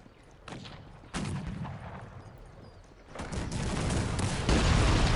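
Artillery fire in Cossacks 3, a string of booming cannon shots and crackling volleys that grow louder and denser, layered over distant battle noise.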